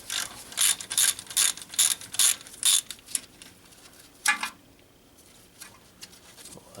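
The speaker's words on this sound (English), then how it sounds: "Use a 10mm socket." A ratchet with a 10mm socket turning a bolt on a 2003 GMC Sierra or Chevrolet Silverado during ball joint work, close, loud, rapid clicking bursts in a quick rhythm, then a few slower, fainter clicks.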